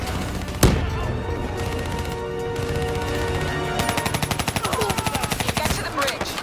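Automatic and rapid gunfire in Call of Duty: Black Ops 3 during a combat push toward a bridge: a sharp blast opens, then sustained bursts with dense rhythmic repeating shots build up loud and close, while background voices speak faintly.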